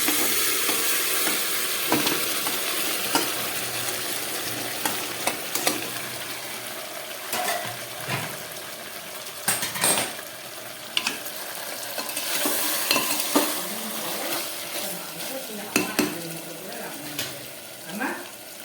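Braised mutton pieces tipped into a hot pot and stirred for a light mutton curry, giving a steady sizzle and frying hiss with repeated scraping stirs and clinks throughout, fairly close.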